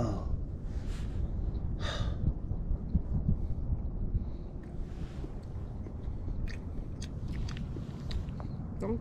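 A soft-boiled egg being eaten up close, with soft chewing and wet mouth sounds, audible breaths and sighs between bites, quiet and intimate with no talking.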